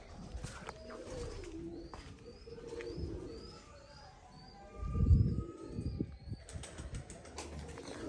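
Pigeons coo softly in a quiet space, and a sudden flurry of flapping wings bursts out midway before the cooing continues.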